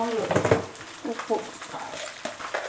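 Pickle ingredients frying in hot oil while being stirred in a pan, with a soft sizzle under intermittent scraping and clinks of a spoon against metal.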